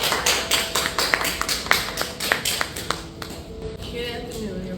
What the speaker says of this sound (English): everyone give a hand of applause to Carolyn Neal